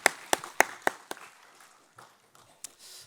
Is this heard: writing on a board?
no